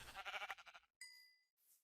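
A Minecraft sheep gives a short, wavering bleat, close and clear, followed after a brief gap by a thin ringing chime and a faint trailing hiss.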